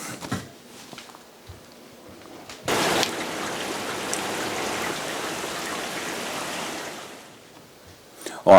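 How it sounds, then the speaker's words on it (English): Heavy rain pours down outside in a steady, dense hiss that swells to a loud, unbroken downpour midway and holds there, with a few faint knocks and soft sounds near the start. "it's raining cats and dogs out there, so can't go shopping at the moment"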